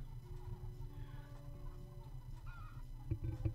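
Hens clucking in the mobile idle game Egg, Inc., quiet overlapping clucks and soft honk-like calls with a few sharper taps near the end.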